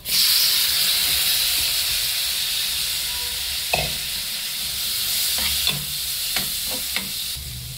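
A spiced mixture for pawta (val bean) bhaji roasts in a pan with a loud steady hiss and sizzle, joined by several sharp scraping stirs toward the end.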